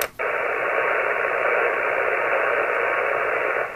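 Steady band-limited hiss from an Elecraft radio receiver with the KNB2 noise blanker switched in, a smooth, even static wash after a brief click at the start, with no pulse noise breaking through.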